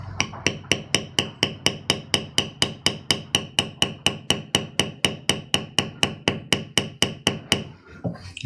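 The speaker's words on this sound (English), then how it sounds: "you only move your tool just a very fraction of an inch every time you make a stroke with your maul" A maul striking a swivel beveler during leather carving, a long, steady run of about 25 evenly spaced, sharp taps that stops cleanly near the end, with no voices.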